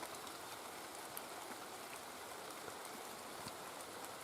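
Rain falls steadily over a vegetable garden at a dacha during the rainy season, a dense even patter with scattered nearby drips, continuous and moderately loud with no voices.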